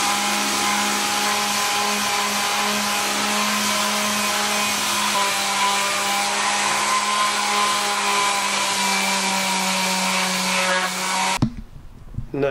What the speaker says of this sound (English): My old vibrating sander and a sort of 120 grade sandpaper attached to the bottom.